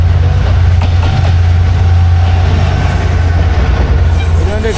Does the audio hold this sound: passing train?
yes